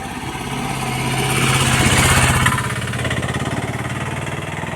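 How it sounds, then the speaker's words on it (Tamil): An engine vehicle approaches along a rain-soaked road, its steady mid-pitched drone swelling louder to a peak and then easing slightly as it passes close by, with a faint wash of rain behind. "இங்கே ஒரு வண்டி வருது பாருங்கள்"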